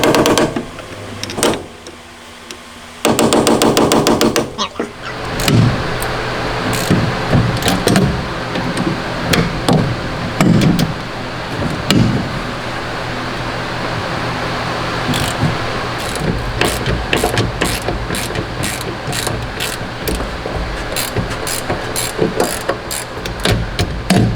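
A ratchet wrench loosening bolts on a Porsche 356, with bursts of rapid clicking pawl ratcheting interspersed with metallic clanks and handling noises, close and fairly loud, no talking.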